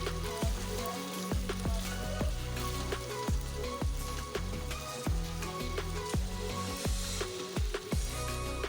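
Fried chicken pieces go into a hot pan for dry chicken manchurian and are stirred through, giving a steady loud sizzle broken by repeated scraping and clanking strokes of the spatula, with no talking.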